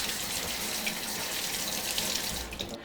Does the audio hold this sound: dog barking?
no